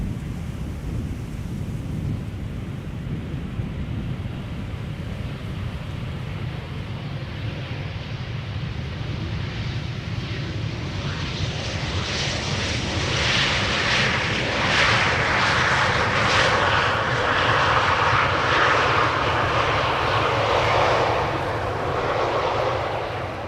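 A 16-year-old airliner, first flown in 2008, rumbles at Amsterdam Schiphol Airport, its engine roar swelling steadily louder and brighter partway through and holding as a sustained, fairly close drone.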